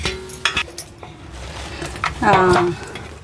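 Wheat flour with chilli powder, turmeric, salt and coriander powder being mixed in a bowl for appalu: a spoon clinks and scrapes against the bowl in irregular knocks and rustles, with a voice talking.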